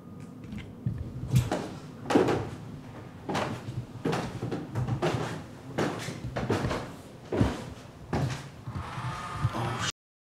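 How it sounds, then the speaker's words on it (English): Door in an abandoned mansion's attic creaking and knocking as the wind pushes it, with repeated thumps and rattles at a steady, close, fairly loud level throughout and no talk. "like this weird noise, like a door opening"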